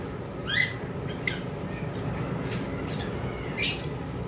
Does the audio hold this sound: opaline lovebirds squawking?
yes